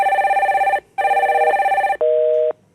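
A telephone rings during a call-in connection, two loud electronic ring bursts followed by a shorter lower tone, clear and close with no voices.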